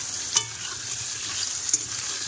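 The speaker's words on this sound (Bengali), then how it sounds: "এদিকে মাছ ভাজা হচ্ছে" Fish sizzles steadily in hot oil in a pan, a constant crackling hiss with a couple of brief scraping stirs.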